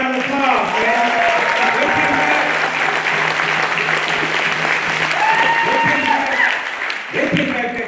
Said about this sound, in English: Give me a round of applause, man.